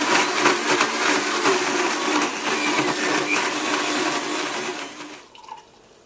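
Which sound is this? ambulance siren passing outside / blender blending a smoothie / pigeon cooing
blender blending a smoothie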